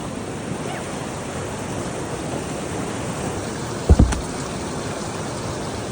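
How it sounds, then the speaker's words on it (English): Fast class 3 to 4 rapid in the first gorge of the West Fork Hood River, a steady broad rush of whitewater with a log spanning the river, heard close and continuous with a brief thump partway through. "It's kind of a fast rapid with this log that spans the river."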